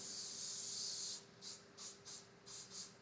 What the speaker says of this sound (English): I'm going to spray my pan here a little bit.